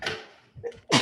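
A single short, sharp sneeze bursts out loudly at the end of a quiet room moment during an art class, just after a brief murmur of talk.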